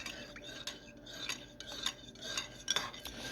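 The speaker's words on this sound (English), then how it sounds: "let's go ahead and stir" A spoon stirs food in a pot, giving soft, close scraping and light metallic clinks in several irregular strokes, with no talking.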